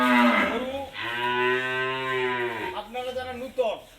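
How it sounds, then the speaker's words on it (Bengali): A dairy cow lows loudly and close by: one long drawn-out moo, followed by shorter, broken calls. "গরু"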